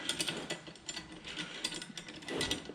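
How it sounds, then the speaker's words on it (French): A ratchet wrench tightens bolts during assembly of a climbing platform, giving a fast run of close, dry clicks in short bursts with brief pauses, no talk. "Et donc on va procéder au serrage."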